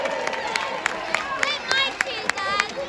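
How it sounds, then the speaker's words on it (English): A crowd of grown-ups at a weekend kids' football festival presentation cheers loudly and continuously, with bursts of clapping and sharp whoops and whistles rising over the sustained roar. "let's have a massive cheer for our kids"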